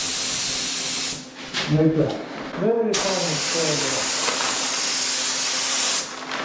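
Spray gun hissing steadily while top-coating the body of a VW T4 Syncro van, a loud continuous spray broken by a short pause with a few tonal bursts, then resuming strongly.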